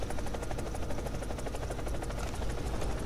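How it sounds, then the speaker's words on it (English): A G-Lynx helicopter flying in the video game War Thunder, with a steady, fairly faint rotor chop and engine buzz droning on continuously with no pauses. "This is definitely a fun helicopter."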